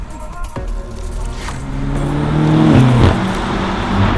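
A 2023 BMW M8 Competition Convertible's engine climbs in pitch as it accelerates, the close, loud roar building steadily after a sharp initial knock.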